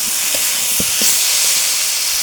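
Ash gourd frying in a pan, a steady close hiss of sizzling with a few faint soft taps near the start and no talking.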